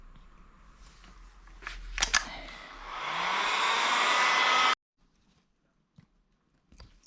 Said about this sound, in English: Then we remove the brand with a heat gun.